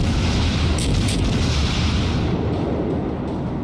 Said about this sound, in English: I'm still gonna keep shooting at him